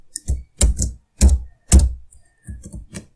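Code being typed on a computer keyboard in R, heard as bursts of clacking keystrokes in several rapid clusters with short pauses between, fairly close and clear with no talking.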